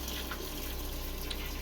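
Aquarium water draining steadily through a siphon hose into a wastewater container, a continuous quiet trickle and gurgle with no breaks.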